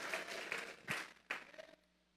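Church congregation at a Sunday service clapping together as an offering of praise, a dense burst of applause with a few louder claps that stops abruptly.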